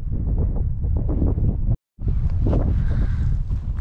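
Strong wind buffeting the microphone at a mountain campsite on a hike up to 1102 m, loud and continuous with a brief dropout midway before the gusting resumes.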